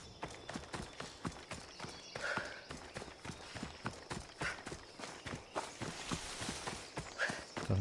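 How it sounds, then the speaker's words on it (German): Horse hooves clip-clop steadily in the video game Assassin's Creed Odyssey, a brisk regular rhythm of sharp hoof strikes over faint ambient background, mostly free of talk. "Da ist ein Pferd."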